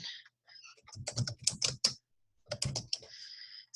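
Fingers type on a computer keyboard in two quick bursts of close, crisp key clicks separated by a short pause.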